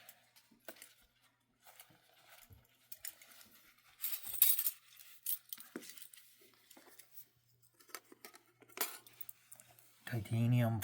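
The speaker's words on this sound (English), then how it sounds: "Titanium fork and spoon, can opener." A titanium fork, spoon and P38 can opener clink and jangle lightly in scattered bursts, close by and faint, with a short voice near the end.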